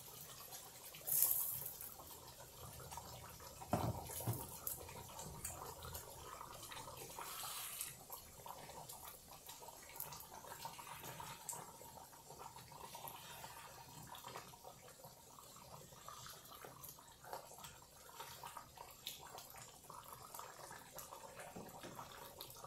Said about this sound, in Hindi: अब मैं इसमें पानी डालूंगी और गोश्त गलने को रख दूंगी